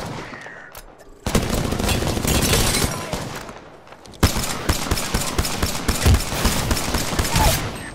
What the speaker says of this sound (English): Prowler SMG here. 5-round burst, high rate of fire.